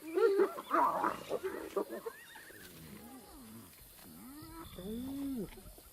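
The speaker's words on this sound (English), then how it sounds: "Hyenas are ripping an impala kill apart." Hyenas squabble over an impala kill they are ripping apart, giving loud close whooping cries, giggles and rising-falling yelps in a chaotic overlapping tangle that eases into softer moaning calls.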